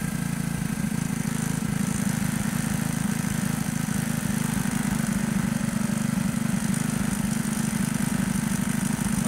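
The carbureted engine of a motorcycle idles steadily and close by, with a constant low, even drone throughout while the air screw is being turned.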